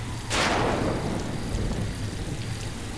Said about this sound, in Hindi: इस बारिश में भी तुम ये सब सर्विस दे रहे हो